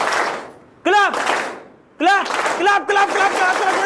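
A group in a confidence-building class claps together on command, with a burst of clapping at the start and another partway through, each cut off sharply. An instructor's voice calls out over and between the claps.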